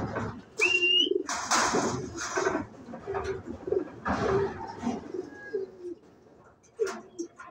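Racing pigeons coo repeatedly in low, throaty phrases, close by, with a few brief chirps and faint background voices.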